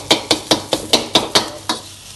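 Spoon scrapes rhythmically against a pan while panang beef curry stir-fries in coconut cream, seven or eight sharp, evenly spaced strokes over a soft sizzle, close and clear, then trailing off.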